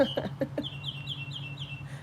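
Birds call outdoors in the morning, a few sharp chirps followed by a rhythmic series of repeated whistled notes, close and clear over a low background hum.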